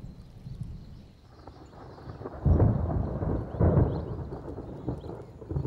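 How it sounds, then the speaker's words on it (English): Thunder from an approaching summer storm rumbles in deep, rolling waves, swelling into two louder peaks and fading between them, with no other sounds standing out. "The approach of the first summer storms charges the air."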